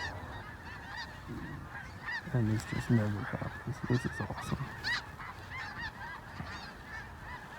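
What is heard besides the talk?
blue geese and Canada geese honking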